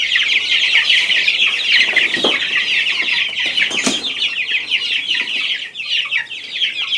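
Month-old chicks, including Barred Rock, Buff Orpington and Silver Lace Wyandotte, peep and cheep continuously in a coop, a dense, close chorus with a couple of brief wing flaps and no voices.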